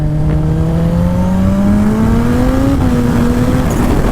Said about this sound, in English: Let's just do a little test shift.